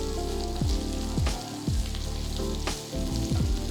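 Bitter gourd slices frying in hot oil over a high flame, a close, steady sizzle and crackle that swells with each stir, with no talking.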